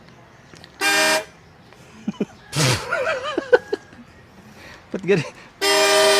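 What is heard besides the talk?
weak motorcycle horn honking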